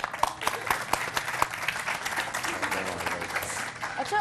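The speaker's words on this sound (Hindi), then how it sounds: "इनके लिए बहुत सारी ताली" Studio audience applause on a morning television show, moderately faint and scattered, with a few sharper claps standing out and voices talking over it.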